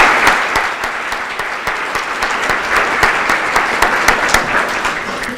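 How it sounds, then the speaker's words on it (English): A round of applause at the Hope Breakfast 2013, many hands clapping steadily in a room, with sharper individual claps standing out against the sustained wash throughout. "For them, let's give a round of applause."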